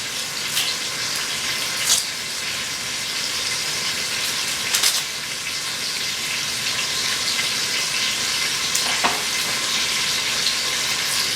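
A medium-sized Vidalia onion sizzles steadily in an Instant Pot with a constant, even hiss. A few faint clicks and clinks of utensils sound over the frying, and no one speaks.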